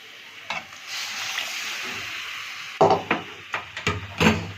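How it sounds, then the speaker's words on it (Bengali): Water goes into a hot kadai of frying pointed gourd masala with egg: a soft sizzle at first, then a run of sharp hissing bursts and clattering knocks near the end, with no one talking. "এবার আমি পটলটার মধ্যে দিয়ে জলটা দেবো"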